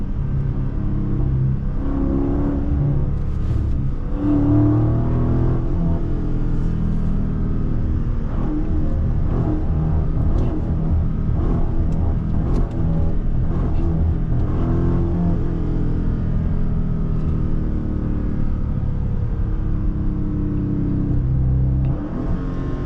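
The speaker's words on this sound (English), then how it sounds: "My motor is still stuttering." A Dodge Charger Scat Pack Last Call engine idles and revs in a steady rumble, with uneven, sputtering stutters breaking through the low drone.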